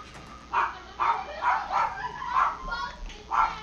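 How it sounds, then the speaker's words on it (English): A dog barks repeatedly in a dark horror game set in an asylum, about six distinct woofs at a steady rhythm, mid-distance and moderately loud. "Why is my dog barking?"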